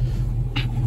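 A car engine rumbles steadily from inside the cabin, a low continuous drone with a brief brighter burst partway through.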